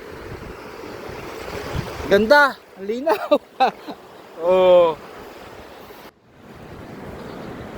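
Ocean waves wash in at a coral beach at Vergara Place in Tobias Fornier, a steady rushing surf with wind noise underneath excited voices and laughter, then the surf carries on alone.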